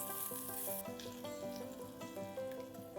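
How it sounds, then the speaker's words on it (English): Cloves, cumin seeds, green chillies and ginger sauté in ghee in a pressure cooker for urad dal khichdi, a soft sizzle running quietly beneath music. "2 cloves, a teaspoon of cumin seeds, 2 green chillies, 1 tablespoon ginger, and saute all these ingredients for a few seconds."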